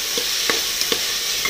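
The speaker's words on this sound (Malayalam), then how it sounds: "ഇതെല്ലാം നന്നായിട്ടൊന്ന് വഴറ്റി കൊടുക്കാം." Onions and squid sautéing in a pan for a Kerala-style koonthal roast, a loud continuous sizzle with a few light stirring knocks spaced through it.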